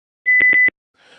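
A Motiv Reflex tuner gives a rapid burst of three short, loud electronic beeps on a single tone when its upload button is clicked, followed by faint noise.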